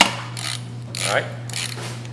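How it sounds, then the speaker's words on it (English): A gator grip socket ratchets on a nut during an auger entrapment rescue, giving three short bursts of clicking over a steady mechanical hum, close and moderately loud. "Next method we're going to use is we're going to use the gator grip socket."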